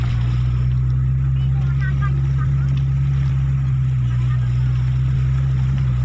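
A heavy tronton truck wades through deep floodwater in Sekucing Kualan village, Simpang Hulu, its loud, steady low engine drone running throughout with a wash of water and faint voices underneath.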